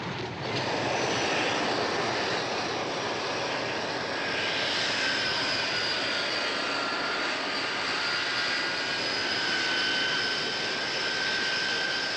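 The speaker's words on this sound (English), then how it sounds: "Oh, my luggage is on that plane." Fixed-wing airplane engine roaring steadily as a plane departs, a loud continuous jet-like drone with a rising whine, alone without voices throughout.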